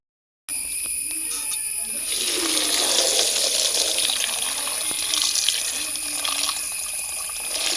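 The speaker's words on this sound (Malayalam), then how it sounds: "നന്നായിട്ട് വാഷ് ചെയ്തെടുക്കാം." Hibiscus flowers being washed under a running kitchen tap, a steady hiss of flowing water splashing into a sink, continuous and close for several seconds after a brief silent start.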